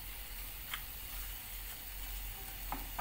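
Steady, close sizzling of chopped liver frying in a pan on low heat, with a few faint clinks of a utensil stirring now and then.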